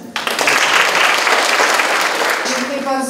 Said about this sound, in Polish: Myślę, że wszystkim się już teraz brawa należą jeszcze raz.